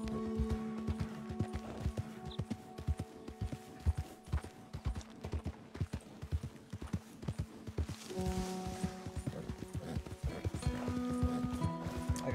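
Horse hooves clip-clop in Red Dead Redemption 2, a fast, regular run of close sharp hoofbeats with steady musical tones underneath, the rhythm continuing throughout.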